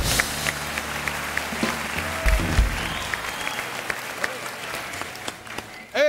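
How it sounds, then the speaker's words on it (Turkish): A studio audience on the Turkish show 3 Adam claps in a full, lively burst, with background music and some voices mixed underneath, ending on a brief louder swell. "Alkışlar."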